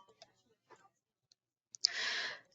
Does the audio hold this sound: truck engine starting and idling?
no